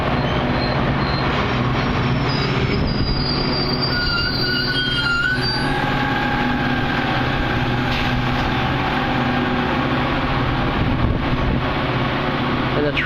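Metra commuter train rolling past in Hinsdale, its wheels squealing in long high-pitched tones over a steady, loud rumble of railcars that fills the whole stretch.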